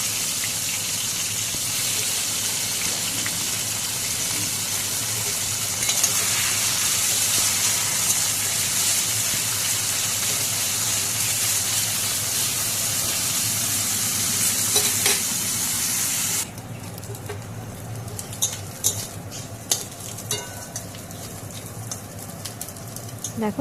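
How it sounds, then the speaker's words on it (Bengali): Prawns fry in hot oil in a wok, giving a steady, loud hiss of sizzling that suddenly drops away partway through, leaving a quieter crackle and occasional clinks of stirring. "তেলটা গরম হয়ে গেছে, এখন চিংড়ি মাছগুলো দিয়ে দিলাম"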